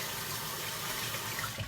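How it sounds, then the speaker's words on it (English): A kitchen tap pours cold water over a cloth in a steady, continuous rush with slight splashing, heard alone without any voices. "and give it a cold water blast"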